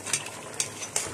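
Spices stir-frying in a pan for a spicy chicken curry make a soft sizzle, with three brief scraping strokes spaced evenly across a short moment.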